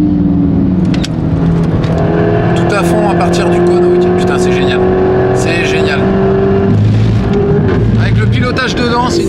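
A Praga prototype race car lapping the Castellet circuit, its engine droning loud and steady with rising revs and some tire noise, heard from inside the car, with someone talking over it.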